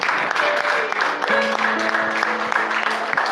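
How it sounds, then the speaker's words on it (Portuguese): A church congregation applauds during a Portuguese-language worship service, steady clapping blended with sustained organ or keyboard tones underneath. "E aplaude ao Senhor Jesus."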